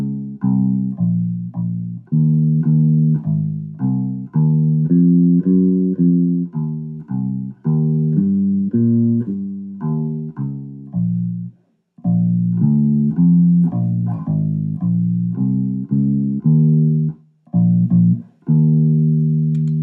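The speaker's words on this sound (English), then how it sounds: "And that's what a walking bass line is all about." A bass plays a steady jazz blues walking line, one plucked note per beat in a continuous stepping rhythm, with two brief pauses between phrases.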